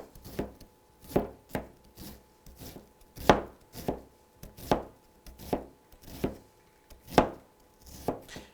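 A knife chops through an onion on a cutting board, about ten sharp, evenly paced thuds spread over several seconds, close and clear with no talking.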